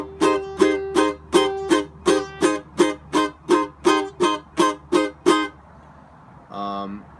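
Rhythmic guitar strumming using left-hand muting, with sharp, choppy muted strokes in a steady pulse, about a dozen chords, ending with one brief ringing chord.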